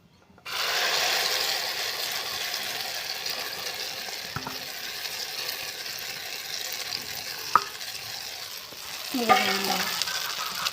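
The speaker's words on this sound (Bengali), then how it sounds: "এটা আমি আস্তে আস্তে ভাজবো" Beaten egg frying in hot oil in a wok, a steady close sizzle starting about half a second in and holding throughout, with a few light utensil scrapes and clinks near the end.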